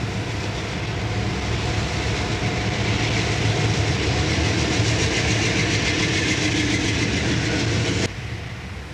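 An anthracite-region JSA-1 freight train pulls away from a signal tower in the 1970s, with a steady rumbling engine drone and rolling rail noise, loud and continuous, dropping off abruptly near the end.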